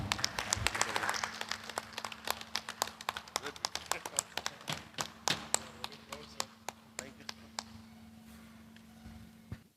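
An audience at a Janasena Party legislative party meeting bursts into dense, loud clapping that thins out into scattered individual claps over about ten seconds.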